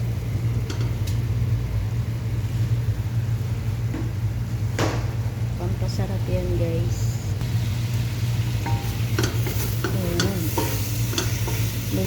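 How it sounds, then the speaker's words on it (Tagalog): Leaves frying in sautéed garlic and onion in a pan, with a steady low hum and sizzling, scattered clinks and scrapes of stirring, and faint voices in the background. "ilalagay ko itong dahon na ito. Dito sa ginisang bawang sibuyas."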